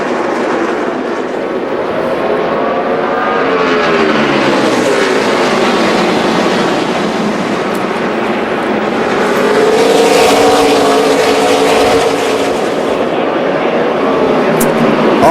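NASCAR stock cars roar around the track at the 2011 Tums Fast Relief 500, a dense, loud sustained engine drone with pitch sweeps as cars pass, swelling toward the end, with crowd and commentary blended into the roar.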